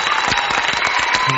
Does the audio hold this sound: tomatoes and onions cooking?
no